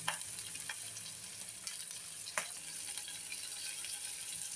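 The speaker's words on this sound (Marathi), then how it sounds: "मटार पण चांगले परतून घेऊया कांद्यासोबत." Green peas frying with onion in a pan: a quiet, even sizzle broken by a few spoon taps and scrapes while stirring, no speech.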